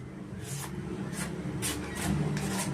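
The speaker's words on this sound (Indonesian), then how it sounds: "nanti terus diasah ulang seperti ini" A knife made from old scissors is re-sharpened after hardening, giving repeated scraping strokes of metal against a sharpening stone in short separate bursts, close and moderately loud over a low background hum.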